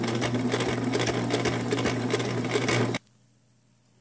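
A sewing machine stitches in the ditch along the top edge of a corset, a steady loud mechanical whir running continuously for about three seconds before stopping abruptly.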